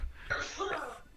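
A single sneeze, a quick sharp intake followed by an explosive burst, nearby during a team training session, with room noise around it.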